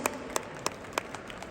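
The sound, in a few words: audience applause for a dance group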